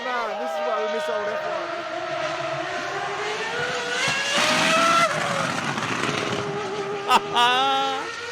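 Shrill V10 engine of a BMW FW26 Formula 1 car howls continuously at high revs, pitch climbing and falling through upshifts, loud and close, with a sharp burst near the end.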